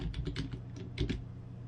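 Typing on a computer keyboard: a quick, close burst of light key clicks in uneven clusters, fairly quiet, with no talking.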